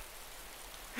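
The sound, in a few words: rain in a video game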